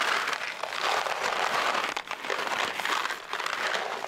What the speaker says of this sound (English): Can you hear me? It's the sound of snacks.